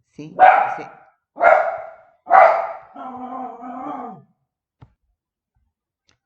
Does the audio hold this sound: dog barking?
yes